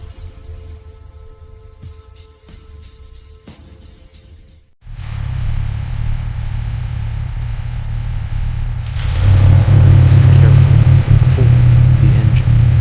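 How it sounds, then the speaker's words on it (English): A 1967 Ford Mustang engine starts with a sudden low, rumbling surge and then builds into a louder, deeper roar that holds steady up close. "The engine roars. Deep, thunderous, alive."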